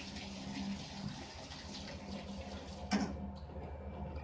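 Fresh water runs steadily into a sanitizing sink, a continuous broadband wash of flow with a brief splash or clunk near the end, heard alone at close range.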